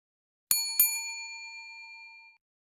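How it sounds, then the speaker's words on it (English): A podcast's double bell ding: two quick bright strikes of a bell, the second just after the first, ringing out clearly and fading over about two seconds in silence. "that was the Double Bell, the new Double Bell"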